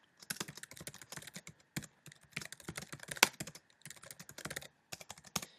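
Code being typed on a computer keyboard for an iOS SDK 7 table view tutorial, close, quiet clicky keystrokes in quick bursts separated by brief pauses.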